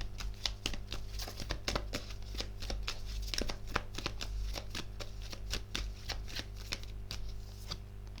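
Tarot cards shuffled briskly by hand, a quick steady run of close crisp riffling clicks over a low constant hum, with no talking.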